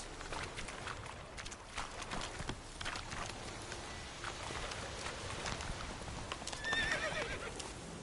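Roach, a horse in a video game, trotting with a rapid steady clip-clop of hooves and a whinny, heard faintly under a continuous wash of game ambience.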